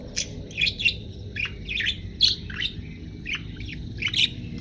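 A myna bird calls in a series of sharp, bright chirps and whistles in irregular bursts, fairly close, over a steady low rumble of background noise.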